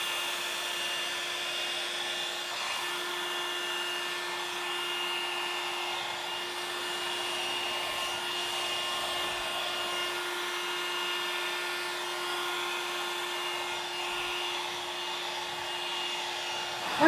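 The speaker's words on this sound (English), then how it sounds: "I am going to use my small hairdryer." A small hairdryer blows steadily on wet paint, a constant high whirring motor whine with an airy hiss, close and unbroken throughout.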